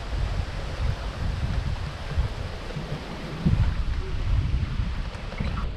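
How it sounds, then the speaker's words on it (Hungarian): Strong wind buffets the microphone on the Lake Balaton shore, a steady loud low rumble with gusts swelling throughout, mixed with faint lapping surf and no voices. "Ó, de fúj a szél."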